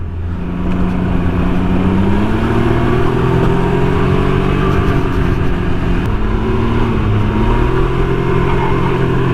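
A 2019 Can-Am Ryker three-wheeler accelerates with a loud, continuous engine drone whose pitch climbs and dips as the throttle changes, heard close up over steady wind rush with no talking.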